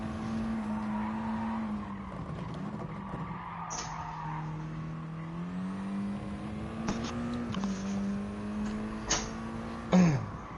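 In a racing video game, a car engine holds a steady, droning note and swells gently as it revs, with tire squeal and short sharp bursts near the end, and no voices.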